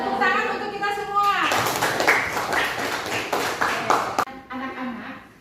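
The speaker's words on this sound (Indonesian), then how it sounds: "Tepuk tangan untuk kita semua." Children in a classroom clap together in a short burst of applause, lively and close, with voices before and after it.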